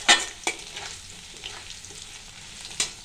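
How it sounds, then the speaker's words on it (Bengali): A potato frying in a pan with a soft steady sizzle, punctuated by a few sharp clinks and scrapes of stirring near the start and end, close by with no talk. "এবারে একটা আলু ভাজছি"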